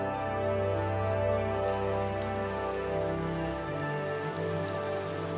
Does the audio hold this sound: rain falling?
yes